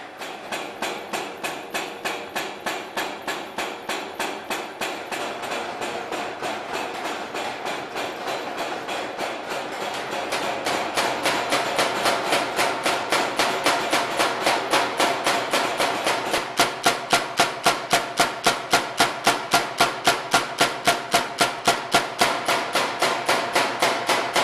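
Mechanical hammers pound gold leaf between sheets of Mylar at a goldbeating workshop, a fast, steady, loud train of metallic blows that grows denser and more forceful midway through.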